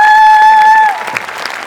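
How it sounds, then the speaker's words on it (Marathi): On a Marathi comedy stage show, a loud sustained musical tone gives way to a burst of audience applause, with the clapping quieter and scattered over the last second. "जोरदार टाळ्या झाल्या पाहिजेत."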